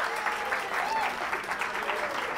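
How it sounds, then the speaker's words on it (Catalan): A studio audience at a televised word game show claps steadily and with energy, a dense, continuous patter of many hands that holds at the same level throughout. "aplaudiu i a més aplaudiu amb força, amb força ganes"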